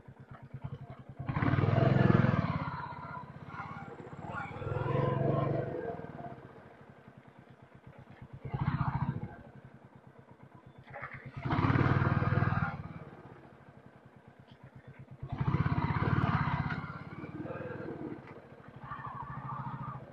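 Royal Enfield Bullet 350 motorcycle (2023) ridden off-road, its thumping single-cylinder engine rising in several loud bursts of throttle separated by quieter rolling stretches, with rattling and clatter over rough ground.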